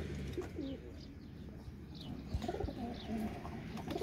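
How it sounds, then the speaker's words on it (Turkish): Pigeons coo in a coop: soft, low, rolling coos repeat close by over a murmur of other birds and light rustling, with no talking. "Bu tarz kümes çekimleri istiyordunuz kuşları yakından görmek."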